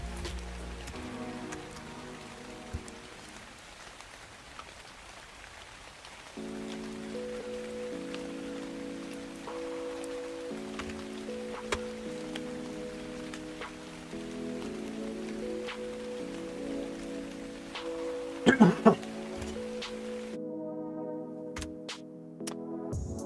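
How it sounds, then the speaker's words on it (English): Steady rain patters continuously on a surface, with occasional louder drips and ticks, while a low tonal hum sits underneath. "Raining again."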